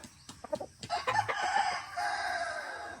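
A fighting rooster from a Filipino sabong game farm crows once, loud and near, with a drawn-out call after a few short clucks, and no talk.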